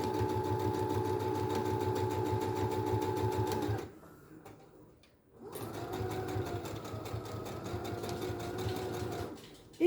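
Sewing machine stitching around a fabric neckline, a steady close mechanical whir with rapid needle rhythm, pausing briefly midway before running steadily again.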